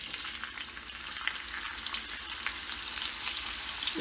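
Sliced onions hitting two serving spoons of hot oil in a pan for masoor dal, giving a steady, dense sizzle and crackle that runs unbroken and fairly close.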